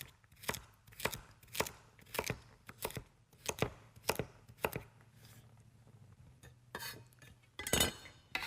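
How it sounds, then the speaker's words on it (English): A knife chops vegetables into celery-sized pieces on a big cutting board: a close, steady run of sharp, crisp chops with short pauses and a final flurry of quick cuts, without any talking. "just cut them into pieces about the same size as your celery"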